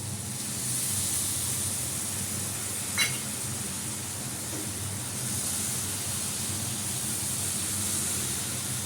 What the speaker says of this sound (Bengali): এবার এই যে বাটি ধোয়া জলটা দিয়ে দিচ্ছি